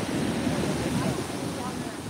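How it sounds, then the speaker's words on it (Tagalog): Big ocean waves surging and breaking at a beach, a steady roaring wash of surf with wind buffeting the microphone, continuous and fairly loud throughout. "Grabe ang alon niya, oh. Ang lalaki, oh."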